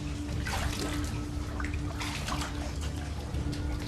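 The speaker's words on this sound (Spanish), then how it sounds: "descendiendo por oscuros corredores y atravesando un río subterráneo" An underground river flows through a dark cave, a continuous loud rushing and splashing of water with brief brighter gurgles throughout.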